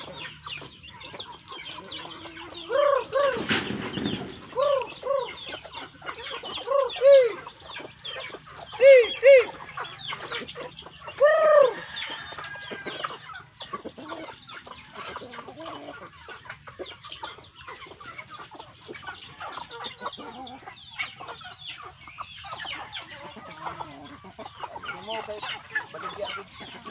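Chickens cluck in short bursts, with a few louder squawky calls standing out over a busy farmyard background of scattered bird chatter.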